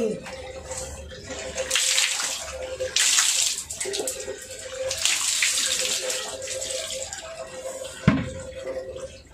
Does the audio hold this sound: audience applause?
no